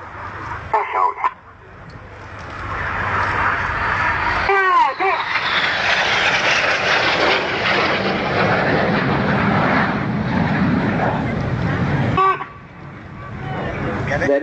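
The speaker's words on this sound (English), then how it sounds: "Synchro are now closing at over 800 miles an hour, just 100 feet above the runway, to perform the Synchro pass" Red Arrows display jets roar low over the runway in the synchro pass at an airshow, a loud sustained rushing blast swelling and passing, with a commentator speaking over the start and crowd noise around.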